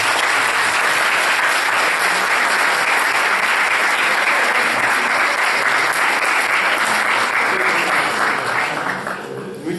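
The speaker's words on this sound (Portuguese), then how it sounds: "acho que os nossos oradores merecem uma última salva de palmas" Sustained, loud applause from a conference audience for the speakers fills the room steadily, thinning slightly at the end.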